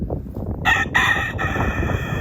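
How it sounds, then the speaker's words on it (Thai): A rooster on a Dutch farm gives a single loud, close crow with a rising then held call, standing out clearly over a rough outdoor background, no talking. "ไก่เอ้ยไก่นี่แหละค่ะตัวไก่เขาก็เลี้ยงนะคะ"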